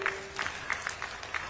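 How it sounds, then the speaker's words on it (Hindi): An audience at a public civic event in Ambikapur gives a few scattered handclaps in quick, uneven bursts that stay fairly faint over a hollow room background. "एक बार उनके लिए ताली बजाइए।"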